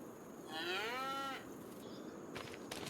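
A cow in Farming Simulator 25 gives one long, loud, drawn-out moo inside a barn on the Iowa Plains View map, followed by quieter shuffling and soft thumps in the shed.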